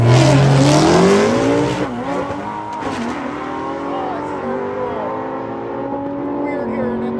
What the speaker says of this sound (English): Weird hearing inline 6 noises come from an old Dodge